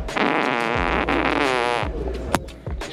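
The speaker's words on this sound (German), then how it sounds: "ich furzen musste und das keiner hören soll" A fart, a low rasping burst about three seconds long, fairly loud and close, with a few brief clicks near the end.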